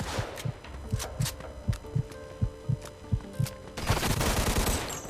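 Gunfire in Mafia II Definitive Edition, a steady series of about a dozen evenly spaced, punchy shots from a single weapon, followed by a louder, denser burst of fire at the end.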